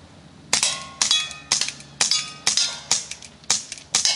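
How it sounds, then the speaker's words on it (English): Pistol fire at an IPSC-style open shooting match: eight sharp shots about half a second apart, each followed by a bright metallic ringing whine like a bullet ricocheting, loud and close, with no talk. "That was the coolest sound I've heard of a ricochet"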